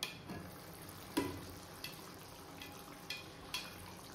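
Chicken cooks in a pan, having released a lot of water, with a soft, quiet sizzle and a few sharp clicks and taps of a utensil spaced irregularly, no talk.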